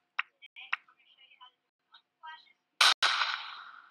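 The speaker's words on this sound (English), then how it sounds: "you need to download a gunfire sound" Soft clicks and ticks lead into a sharp, loud gunshot crack followed by a second blast that rings and decays.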